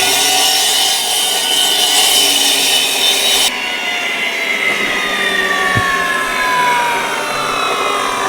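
A wet saw blade cuts brick for a fire pit, with water cooling the blade: a loud, steady, high grinding whine that runs unbroken across the whole stretch, changing tone partway through, with no talking.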